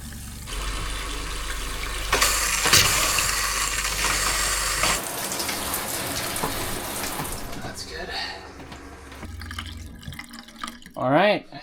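Water rushes through the plumbing of a travel trailer during de-winterizing in Alaska, a steady broadband hiss running for several seconds before giving way to quieter trickling, clanks and brief talk near the end.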